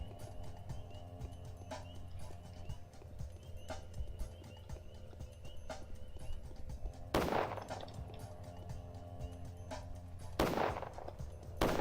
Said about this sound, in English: Lots of gunfire right now.